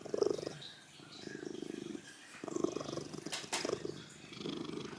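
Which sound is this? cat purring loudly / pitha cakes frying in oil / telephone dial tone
cat purring loudly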